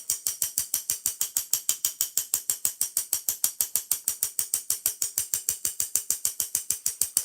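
Sugar being sifted and tapped through a sifter to dust baked goods, a steady fast series of sharp rhythmic clicks, about six per second, close and even, with no talk.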